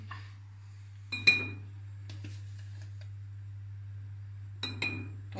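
Metal spoon clinking against a soup pot while flour goes into tripe soup at home, two sharp bright clinks a few seconds apart over a steady low hum.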